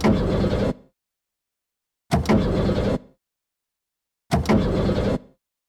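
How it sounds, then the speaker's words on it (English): Three separate bursts of a car engine cranking without catching, each lasting under a second and cutting off abruptly into silence, loud and close. "the engine made an odd creaking noise, like metal on metal, and fell silent"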